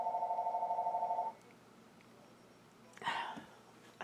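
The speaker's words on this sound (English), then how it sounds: "I have to get that phone." An indoor telephone rings with a rapid warbling electronic trill for over a second, then stops, leaving quiet room tone and a brief rustle.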